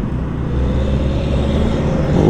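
A bus engine pulls hard along a road, a loud steady rumble that holds and swells slightly over a couple of seconds, with no voices.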